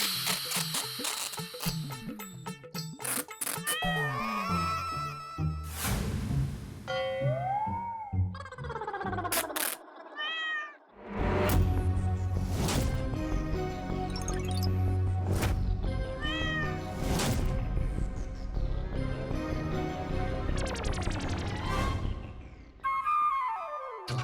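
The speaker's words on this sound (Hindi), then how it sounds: "बिल्ली की आवाज आई थी यहीं से" A cat meows repeatedly in rising and falling cries over a busy, layered background of music and effects in a TV sitcom scene, fairly loud and close.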